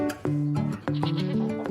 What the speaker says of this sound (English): raising Saanen goats, a breed known for high milk production